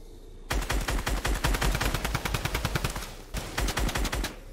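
Rapid automatic gunfire in the video game Fortnite, a loud, dense stream of shots after a brief quiet start, pausing for a moment near the end before bursting again.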